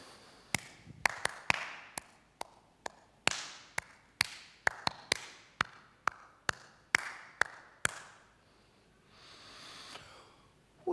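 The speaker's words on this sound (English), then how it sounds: "I'm going to clap my hands" A lone person claps hands in a deliberate rhythmic pattern, about twenty sharp, close claps with uneven spacing forming a beat, clear and dry with near silence between, ending in a faint murmur.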